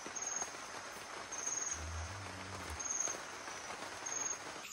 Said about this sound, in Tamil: மழை பெய்யுதுங்க.